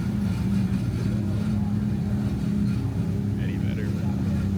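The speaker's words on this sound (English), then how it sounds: "Here are all the championship cars." ChampCar championship race cars at VIR give off a continuous low engine drone and rumble, fairly loud and steady, with voices talking over it.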